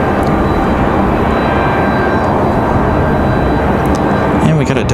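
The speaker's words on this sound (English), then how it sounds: "we got a Delta CRJ on the move" A Delta CRJ regional jet taxis at Raleigh-Durham International Airport with a loud, constant engine rumble and hiss, close and unbroken throughout.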